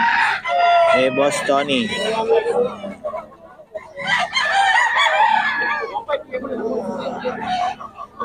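Roosters crowing and hens clucking at a gamefowl yard in Bocaue, loud and close, with several overlapping crows and clucks throughout while someone talks over them.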